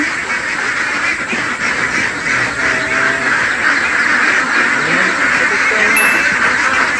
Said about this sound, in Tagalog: Ito na ba yung bago mong itik Pinas?